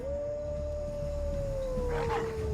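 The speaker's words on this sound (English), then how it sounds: "The howl of the Alpha Wolf resurrects the dead wolves!" An alpha wolf in the video game Throne and Liberty lets out one long, sustained howl that slowly falls in pitch, with a rougher vocal burst near the end over steady game ambience.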